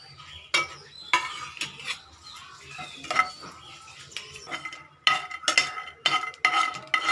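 Peanuts roasting in a pan, with cumin and garlic on the side: close, irregular bursts of scraping and clattering as a utensil stirs them against the metal, over a faint sizzle, without any talk.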